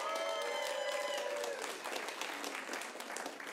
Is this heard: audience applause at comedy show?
yes